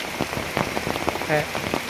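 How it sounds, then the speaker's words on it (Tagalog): Heavy rain pours steadily onto a surface, a dense continuous hiss with scattered drop impacts, and brief faint voices or tones rising through it near the middle. "Kay ulan namang gyud, kusog kayo ang ulan"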